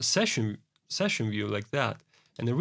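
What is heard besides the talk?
No everyday noise stands out behind the speech.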